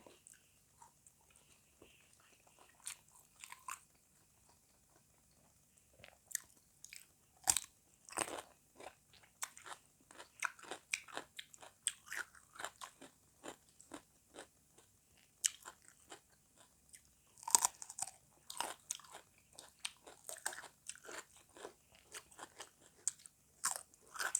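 Pork-filled khanom jeeb dumplings eaten with fresh vegetables indoors: close, crisp crunching bites and chewing in irregular bursts, sometimes quiet, then denser and louder toward the end, with no speech.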